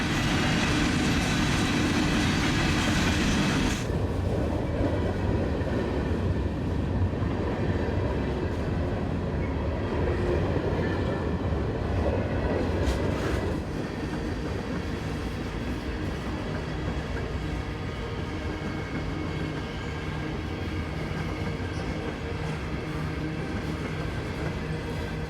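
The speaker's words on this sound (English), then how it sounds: "This train is slightly longer at 111 hoppers." A long CSX freight train of hopper cars rolls past on a West Virginia line, a loud steady rumble of wheels and rail joints that eases slightly after the first few seconds and carries on continuously.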